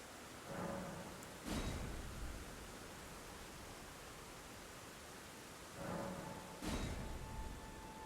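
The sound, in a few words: heavy rain in a video game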